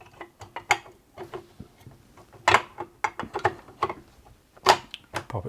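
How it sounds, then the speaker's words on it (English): A faceplate is snapped onto a 1980s Singer Futura 2002 electronic sewing machine, producing a series of sharp plastic clicks and clacks at irregular intervals, close and fairly loud, with no talking. "the faceplate here, we'll just pop that straight on there."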